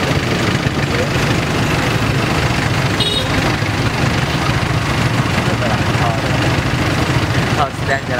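Street traffic in Phnom Penh with motorcycle engines buzzing and idling close by, a continuous busy rumble with voices and horns mixed in.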